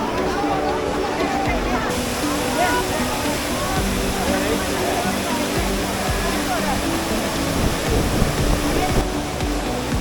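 Water splashes and rushes steadily at the Trevi Fountain in Rome, a loud continuous roar mixed with the babble of a crowd talking around it.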